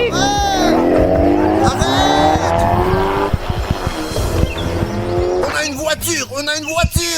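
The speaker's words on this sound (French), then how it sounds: "Oh, il y a une voiture. Ils partent." A car pulls away amid loud, overlapping shouting voices, with squealing tires and engine noise that fade as excited talk continues over the top.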